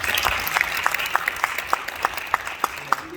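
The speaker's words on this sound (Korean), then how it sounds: "박수 한번 쳐주세요." A church assembly audience gives a short round of applause after a business report, with scattered individual claps standing out over a softer background of clapping in a large hall.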